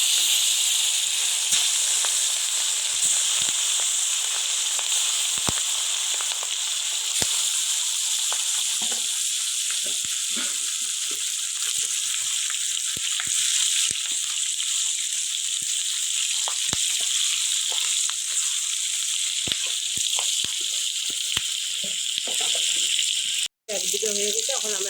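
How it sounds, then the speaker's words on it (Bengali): Katla fish rubbed with turmeric and salt fries in hot oil, giving a steady, close, even sizzle with scattered small pops and crackles throughout. "এখন আমার মাছটা ভাজা করব।"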